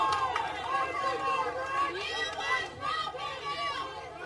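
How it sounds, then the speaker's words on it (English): Crowd at a 5A high school boys soccer consolation match in Kansas City reacting to a foul call, a sustained murmur and babble of many voices with scattered shouts under a commentator's talk. "Harmon crowd doesn't like it."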